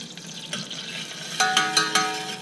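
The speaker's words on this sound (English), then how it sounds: "the butter's coming to the boil" Butter heating toward a boil in a pan, giving a faint soft bubbling and light sizzle, with a few sharper clinks or taps of utensil against pan in the second half.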